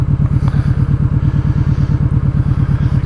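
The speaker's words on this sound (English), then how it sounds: "because of the angle of the V-twin, it gives that unique sound" A Kawasaki Vulcan Vaquero V-twin motorcycle engine idles close by with a loping, uneven throb, its pulses rolling in a steady lumpy rhythm throughout.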